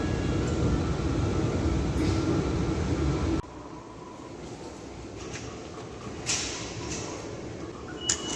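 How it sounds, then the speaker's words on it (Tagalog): Ambience on a Japanese station platform while waiting for a Shinkansen service toward Shizuoka City: a steady loud rumble of a moving train drops abruptly to a quieter hiss, followed by faint clatters and a few sharp knocks. "So andito na kami ngayon sa train station, guys."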